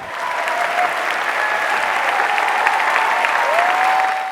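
A Broadway theatre audience applauds as the cast of a long-awaited revival takes its bow on opening night, a dense, steady wash of clapping that holds at full loudness for several seconds, with a few faint whistles rising above it.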